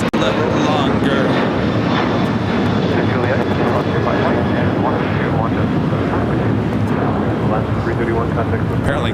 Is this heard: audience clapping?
no